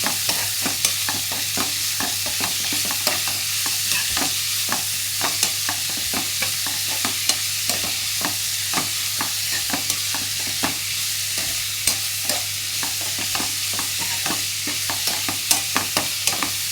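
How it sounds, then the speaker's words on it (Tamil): Long-cut onion strips sautéing in hot oil, a steady frying sizzle with frequent sharp scrapes and taps of a spoon stirring through the pan; no voices. "நீல நிறமாக கட் பண்ணி வச்ச வெங்காயத்தை வதக்குறேன்"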